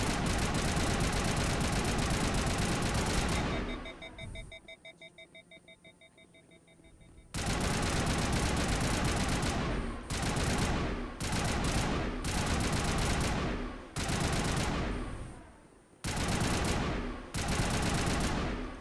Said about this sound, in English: I guess I'm gonna run around just shooting like a maniac